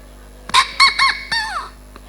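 A voice imitates a rooster crowing during an Islamic sermon in Subang: one loud, close, multi-part cock-a-doodle-doo call with rising and falling pitch, followed by quiet.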